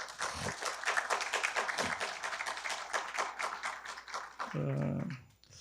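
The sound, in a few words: audience applause for two professors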